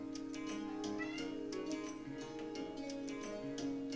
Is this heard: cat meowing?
yes